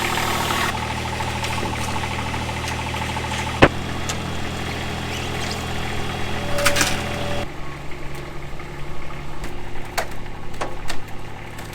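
The diesel engine of a Toro Reelmaster 3100D triplex mower idles while warming up, a steady close rattling chug with one sharp clunk early on and a change in engine note partway through.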